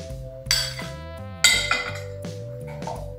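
Metal tablespoon clinking against glass while vinegar is measured out, two bright ringing strikes followed by lighter taps, each tone lingering and fading, close and clear with no talking.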